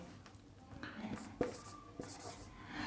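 Marker or chalk writing on a board in a classroom, faint scratchy strokes and a few light taps, quiet and close, with a voice speaking softly at times.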